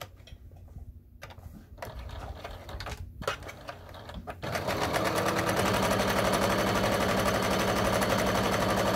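A sewing machine stitches a fabric camera or guitar strap. Scattered mechanical clicks and short bursts come first, then a loud, steady run of rapid needle strokes that stays close and continuous until the end, with no talking.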